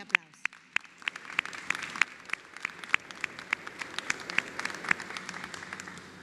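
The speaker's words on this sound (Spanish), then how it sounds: "a nuestra apreciada Delia Tazaico del Pino, para quien pido un tremendo fuerte aplauso." Audience applause at a public ceremony welcoming a tunnel boring machine at a Lima Metro Line 2 station, with sharp scattered claps sustained at moderate volume beneath a murmuring crowd for several seconds.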